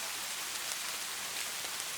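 Gentle rain falls steadily in a dense, even hiss of drops that stays constant throughout, with no voices and nothing else standing out.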